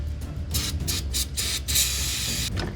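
Carb cleaner sprayed into the intake of a barn-find engine in a series of short hissing bursts, then a longer continuous hiss, close and loud.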